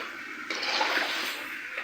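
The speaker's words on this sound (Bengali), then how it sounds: "এখন এটা ভিতরে জল দিয়ে দেবো" Water is poured into a cooking pot of browned chicken being made into a curry with jackfruit, a bright rushing gush starting suddenly and running about a second and a half at moderate volume, with no talk.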